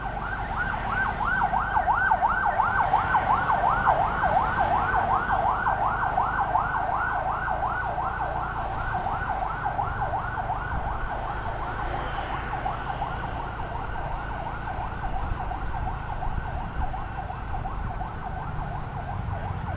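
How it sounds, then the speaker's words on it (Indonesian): An ambulance siren wails steadily on a city street beside a sidewalk, its rapid cycling tone loud and sustained throughout, with faint traffic rumble underneath. "Oke, ada ambulans, kita pelan sedikit."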